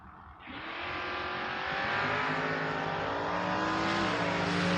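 A 1971 Nova and a 1994 Mustang launch side by side at a door-car drag race, engines roaring up to a loud sustained wail that builds steadily and holds at full throttle, close by with no talk.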